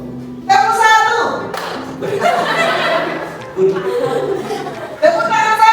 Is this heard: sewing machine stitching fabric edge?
no